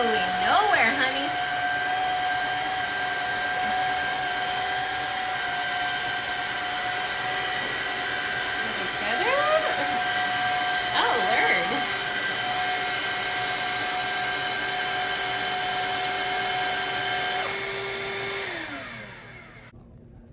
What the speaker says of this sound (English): I did have to help out the little shark vacuum.